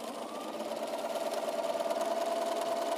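A sewing machine chain-sews quilt block seams one after another without breaking thread, a steady close mechanical whir with a fast even stitching rhythm throughout.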